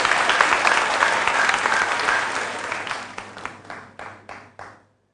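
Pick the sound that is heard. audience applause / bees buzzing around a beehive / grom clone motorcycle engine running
audience applause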